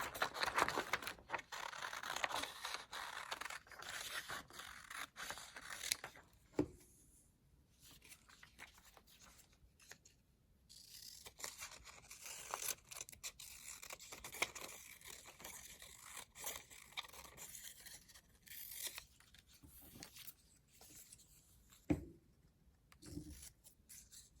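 Quiet, intermittent snipping and paper rustling as scissors cut out printed paper words, with scattered brief scrapes and pauses between cuts and no talk.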